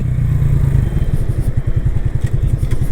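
An FKM Agimat 175 motorcycle engine revs and pulls away nearby on a street, its rapid exhaust pulses climbing steadily in pitch as it accelerates, loud and continuous.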